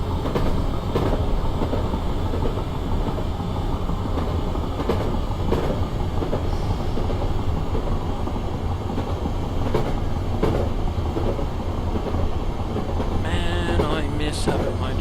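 A Class 455 electric train runs steadily on the Isle of Wight Metro line in Train Simulator 2016, a loud continuous rumble with rhythmic clickety-clack wheel beats and a brief high squeal near the end.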